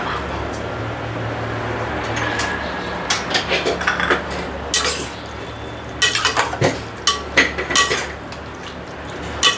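Vegetable biryani being stirred with salt in a pot: a spoon scrapes and clinks against the metal in an irregular series of sharp taps, over a low steady background hum.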